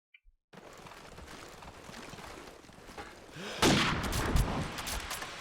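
Call of Duty 4 gunfire fired through a wall in a competitive match, a burst of rapid close shots after a brief silence, growing louder and denser toward the end.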